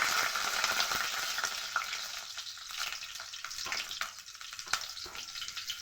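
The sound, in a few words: black cumin and green chillies sizzling in hot oil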